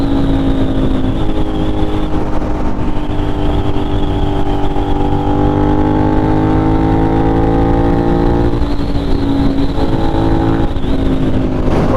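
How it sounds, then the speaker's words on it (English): A Suzuki SV650 motorcycle accelerates in fifth gear on a night ride through New York City, its engine drone loud and continuous and close, rising steadily in pitch with wind rush over it. "very nice sounding sound machine. Fifth gear. Accelerates nicely."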